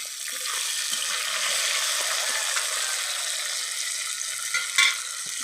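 Tomatoes hit a hot pan of browned jackfruit curry base and sizzle steadily, a close, even frying hiss with a few faint stirring scrapes and no talk.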